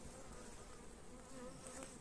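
Honeybees hum in an open beehive during a June hive inspection, producing a continuous, even buzz of many bees up close with no talking.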